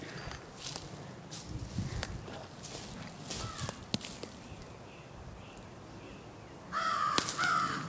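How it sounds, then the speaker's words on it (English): Crows caw in a few scattered calls at a pond, near and fairly clear, with a louder burst toward the end, over faint rustling and footsteps outdoors. "Oh, look at that crow."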